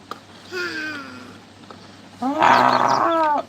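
A child imitates a lion roar with two drawn-out vocal growls, a shorter one followed by a louder, longer one, close to the mic.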